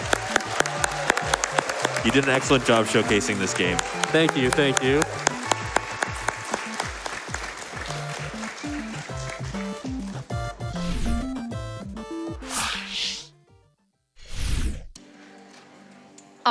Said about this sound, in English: big round of applause once again for Mr.